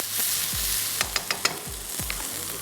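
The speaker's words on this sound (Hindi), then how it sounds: "चलें, थोड़ा सा यहाँ पर सब्ज़ी को फ्राई कर रहे हैं" Vegetables frying in a pan for a Thai peanut butter chicken dish, with a steady close sizzle and a few sharp scraping or stirring knocks in the middle.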